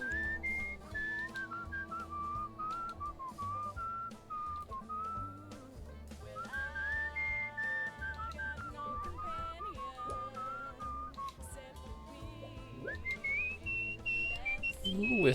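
Melodic whistling from a character in the video game Where the Water Tastes Like Wine, a wandering tune with sliding pitches over soft background music and ambience, growing louder toward the end.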